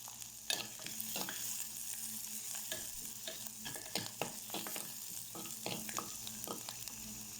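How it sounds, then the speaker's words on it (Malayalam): Ginger, garlic and green chilli sautéing in a pan for moru curry: a close sizzle under a busy run of spatula scrapes and knocks against the pan, irregular but frequent throughout. "മൂത്ത് വരുമ്പോൾ ഇഞ്ചി, വെളുത്തുള്ളി, പച്ചമുളക് ഇത്രയും ഇട്ട് ഒന്ന് വഴറ്റുക"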